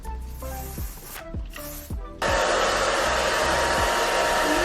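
A sharp, steady hair-spray hiss bursts in partway through and keeps going loud and close to the end, after a few softer tonal sounds.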